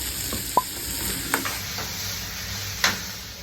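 Tomatoes and coriander sizzle steadily in a hot pan, a constant frying hiss broken by a few light clicks and taps of stirring.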